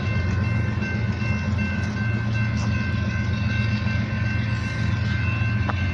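A hard-working freight train locomotive engine pulls its load nearby, producing a loud, continuous low rumble and roar with a faint steady horn-like tone above it, no speech.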